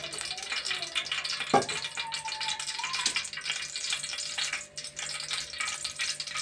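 Sliced onions sizzling and frying in hot oil in a home kitchen, a steady crackling hiss with a sharp clatter of a utensil partway through and a voice speaking over it.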